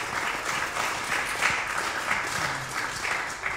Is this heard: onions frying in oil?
no